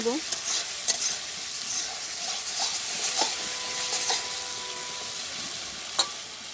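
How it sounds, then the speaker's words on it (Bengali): Spice paste and potatoes sauté in a pan in a village kitchen, a steady close frying hiss with scraping stirs and occasional sharper sizzles throughout, no talking. "আমি এখন এর ভিতরে আলু দিয়ে কষাই"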